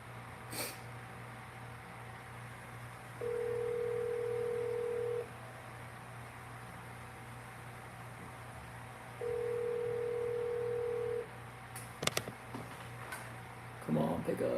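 Outgoing phone call ringback: two long, even tones a few seconds apart over a low steady hum, followed by faint clicks and movement.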